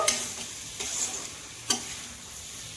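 Meat being stirred in a cooking pot, a few distinct scraping strokes over a soft, steady sizzle, close and fairly quiet with no talking.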